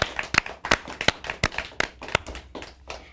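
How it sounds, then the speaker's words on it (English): Audience at a TV talk show clapping in sharp, evenly spaced claps, close and crisp, roughly three per second for about three seconds, with no talking. "I think we should give her a big round of applause for that."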